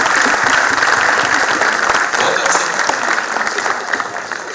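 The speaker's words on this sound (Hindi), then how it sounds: "इस बात पर एक बार जोरदार तालियां बजाएं।" A crowd at a poetry recitation event honoring martyrs breaks into loud, sustained applause, many hands clapping together in a thick continuous roar that eases a little near the end.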